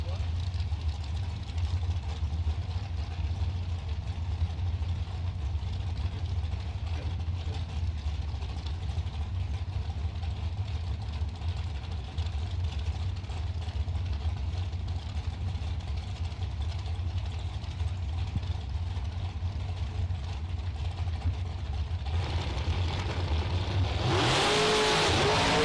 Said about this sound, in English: Charlie Hamma, 454 digital delay dragster out of Davenport, Iowa.